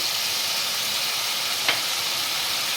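Chili powder sizzles in hot oil for a fish mustard curry, a loud, steady frying hiss throughout with a single brief scrape partway through.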